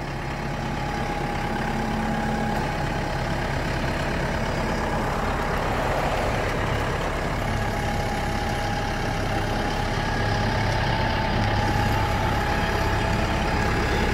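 A tractor engine idles and rumbles steadily at close range, a constant low drone with no voices.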